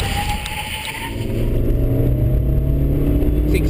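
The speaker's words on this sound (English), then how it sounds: "Logan's now braking, doing 80 k's an hour, 20 metres closer than he was before." A car braking from 80 km/h during a driver training exercise, heard from inside as a loud, steady engine and road drone that swells after the first second and holds throughout.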